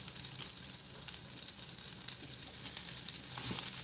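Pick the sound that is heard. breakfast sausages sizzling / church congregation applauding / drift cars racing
breakfast sausages sizzling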